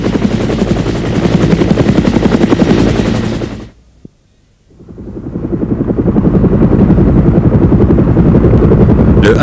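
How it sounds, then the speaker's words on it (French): Military helicopter rotor and engine, a loud continuous chopping drone that cuts out briefly to near silence and then swells back to full strength. "c'est le Vietnam qui révèle les multiples talents de l'hélicoptère militaire"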